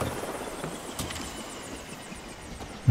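Helicopter flying in Far Cry 5, a steady whirring drone with faint rhythmic rotor chops throughout, continuous and moderately loud, ending in a brief sharp thump.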